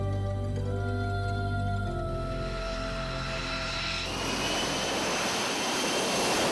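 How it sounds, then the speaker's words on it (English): An F135 engine on an F-35 stealth jet launching at sea roars with a steady, loud drone whose whine shifts and swells into a broad blast partway through, with no talk. "The F-35 is powered by one of the world's most advanced engines, the F-135."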